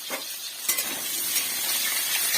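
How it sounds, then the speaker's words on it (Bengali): Potatoes fry in a pan with a close, continuous sizzle, and a few utensil taps and stirring scrapes land near the start. "এই আলুটাকে ভেজে নিচ্ছি"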